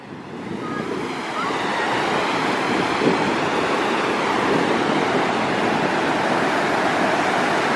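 Ocean surf washes steadily onto the shore, a broad continuous hiss and roar that swells early on and then holds.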